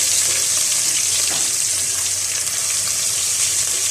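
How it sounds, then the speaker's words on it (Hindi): Sliced almonds, ginger and garlic frying in hot oil for beef badami korma, a steady dense sizzle and crackle running loud and unbroken throughout, with no voices. "अब थोड़ा सा मैं इनको फ्राई करने के बाद अदरक और लहसुन डाल दूँगी। इसको भी फ्राई कर लेंगे कुछ सेकंड्स के लिए।"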